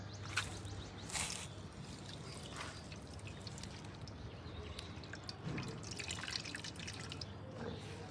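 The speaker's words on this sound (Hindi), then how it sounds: "ऐसे इनका हमने पानी निकालना है निचोड़ के" Steady trickling and dripping water, close by, with a continuous wet splatter as water is wrung from onions in a cloth and falls, no talking.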